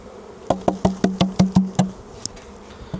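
Honey bees buzz close around a hive box, a series of about eight short, loud, evenly spaced buzzing bursts followed by a couple of fainter ones.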